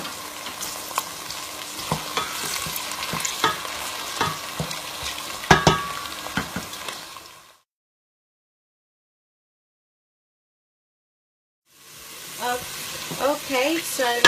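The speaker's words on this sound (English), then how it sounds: "I'm just going to wait for the onions to cook till nearly brown." Onions frying for a Ghanaian fish stew sizzle steadily in a pan with stirring scrapes, cut by a few seconds of silence before the crackle resumes.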